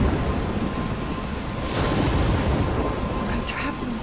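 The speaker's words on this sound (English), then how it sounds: "I'm trapped in a storm?" A stormy scene in the Life Is Strange video game roars steadily with wind and crashing waves, a deep continuous rumble of thunder and surf filling the whole stretch at an even, loud level.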